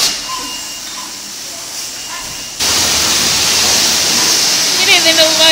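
At a car wash, a pressure water spray bursts on halfway through and keeps up as a loud, steady hiss, with faint voices or a dog's sounds near the end.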